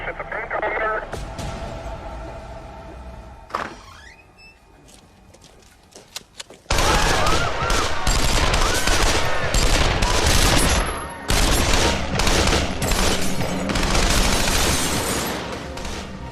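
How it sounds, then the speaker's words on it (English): Sustained bursts of rapid automatic gunfire, loud and continuous for several seconds with a brief break, following quieter radio-like chatter and a couple of isolated bangs. "The officers outside are stunned to hear automatic gunfire."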